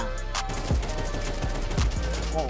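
Rapid gunfire in Counter-Strike 2, several sharp shots in quick succession over a dense background of game noise, loud and close with no talk.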